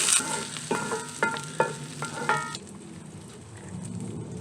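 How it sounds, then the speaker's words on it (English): Shallots sizzling in sunflower oil in a hot pan, a close, steady frying hiss broken by a few sharp stirring clatters, then settling to a quieter sizzle. "hot pan, sunflower oil, shallots"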